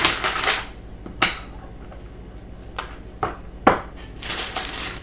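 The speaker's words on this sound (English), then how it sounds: "I'm going to give these 2 more shuffles" A deck of playing cards riffle-shuffled twice, heard as several short crisp bursts of fluttering card clicks spread over a few seconds, fairly close and alone in a quiet room.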